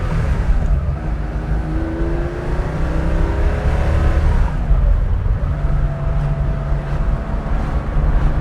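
The engine of a 1975 Porsche 911 2.7 Carrera MFI drives on a winding road, a loud, continuous drone from the cabin that rises and falls in pitch as it revs through the power band.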